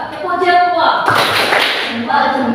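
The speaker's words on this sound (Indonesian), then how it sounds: "Kita beri tepuk jempol bersama-sama untuk kelompok 2" Group of classroom students clapping a rhythmic 'thumbs-up' clap chant together, with patterned claps and short chanted voices mixed in, fairly close and loud.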